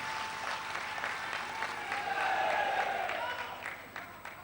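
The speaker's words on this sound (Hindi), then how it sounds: "जोरदार तालियों से हम इनका स्वागत करते हैं।" An audience claps steadily to welcome a guest speaker at a state coordinators' organizational gathering in Chhattisgarh, a sustained mid-distance round of applause that swells slightly midway, then eases off.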